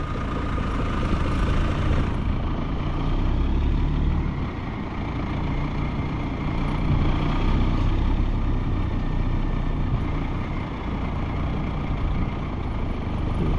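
A big rig truck stuck on flat ground, its engine running with a heavy low rumble while the tires spin, a continuous loud drone with no talking.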